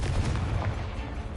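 Confringo fire spell cast in the Hogwarts Legacy video game, a dense, loud burst of booming crackle with heavy low rumble that sustains through the short moment, fighting spiders.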